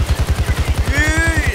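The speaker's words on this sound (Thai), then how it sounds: "เราต้องยิงรถทิ้งครับ" Rapid bursts of gunfire as shots are fired at a car in the heist game Payday 2, a fast regular rhythm of close, loud reports, with a rising tone overlaid near the end.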